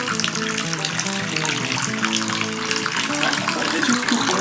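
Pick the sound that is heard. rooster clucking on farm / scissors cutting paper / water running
water running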